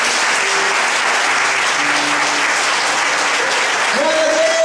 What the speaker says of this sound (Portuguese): Jesus merece uma salva de palmas.